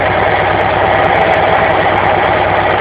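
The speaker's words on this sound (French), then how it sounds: "Je vais vous montrer ce que ça fait une Harley Davidson avec le bruit d'origine" Harley-Davidson Fat Bob motorcycle with stock exhaust idling close up, a loud, steady, rumbling V-twin throb with constant vibration and no other sounds.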